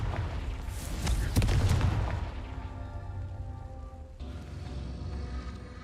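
A Confringo fire spell explodes in Hogwarts Legacy with a loud, crackling burst. A second, smaller blast follows, then a steady low hum carries on alone.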